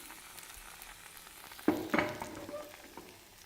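Cashews and raisins frying in ghee for sweet pongal: a quiet, steady sizzle, with a sharper clatter and surge of frying around the middle as they are stirred, and no voices.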